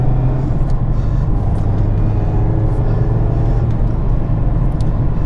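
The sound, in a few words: Mazda MX-5 RF 2-litre petrol engine driving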